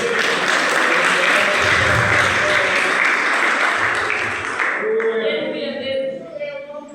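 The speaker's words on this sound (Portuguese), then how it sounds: "Vocês aplaudem o Senhor por isso?" Church congregation applauding in a loud, dense burst of clapping that fills most of the moment, then thins out and fades as a voice begins speaking near the end.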